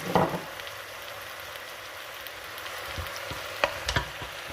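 Red onion and tomato sautéing in a pan, a steady soft sizzle with a few faint stirring clicks and scrapes near the start and end.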